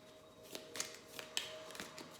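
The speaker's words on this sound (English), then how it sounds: "And I shuffled up these decks" Quick papery riffles and soft snaps of tarot cards being shuffled, several short bursts spaced irregularly, close and fairly quiet.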